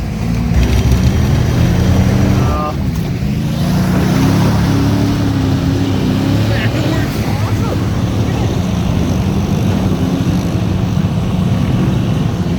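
A mud truck with angle iron welded onto its rear tires roars loudly and continuously through a mud pit, engine droning near and strained, with people talking over it.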